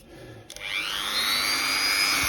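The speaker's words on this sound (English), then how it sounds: "trying to do it above the noise of the drill" An electric drill whines up to a steady high-pitched run after a short click, continuous and close, while restoring a 1972 Barbie doll.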